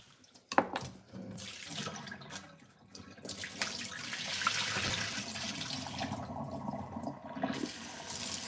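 Tap water runs into a sink as white potatoes are rinsed of starch in a home kitchen, a steady close splashing stream with a few clunks and drips at the start, no talk.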